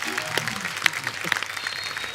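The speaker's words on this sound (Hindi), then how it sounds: "एक बार जोरदार तालियां हुमा और साकिब के लिए।" A studio audience at a comedy talk show bursts into lively, close applause that holds steady throughout, with a voice speaking briefly over the clapping.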